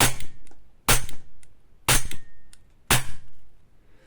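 An airsoft striker-fired pistol with strong recoil fires four sharp, loud shots at roughly one-second intervals, close up, each followed by a brief mechanical rattle. Nobody speaks.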